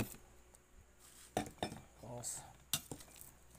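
Oyster mushrooms and ground pork are stirred together in a bowl for lumpia, with quiet scraping and a few sharp clinks of a utensil against the dish amid faint background noise.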